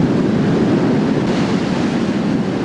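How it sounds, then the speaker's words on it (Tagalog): Strong waves surge along Manila Bay beside Roxas Boulevard in stormy wind, a loud, continuous roar of surf mixed with wind buffeting the microphone and no voices. "malakas pa rin ang hangin at malalaki pa rin ang alon"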